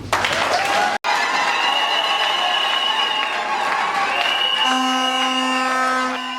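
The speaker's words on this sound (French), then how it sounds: "L'Assemblée a applaudi le travail bien fait du désormais Master Marmot Banza." An assembly at a DEA master's thesis defense at the University of Kamina breaks into sustained, dense clapping with some cheering. The applause carries on steadily and a steady tone rises above it near the end.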